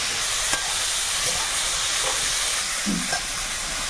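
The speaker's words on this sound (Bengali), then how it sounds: "বেগুন আলাদা করে আর ভাজলাম না, এইবারে একসঙ্গেই সব ভাজা হচ্ছে।" Eggplant and mixed vegetables fry together in a pan with a steady, close hiss of oil that runs unbroken, with a few faint knocks; no one speaks.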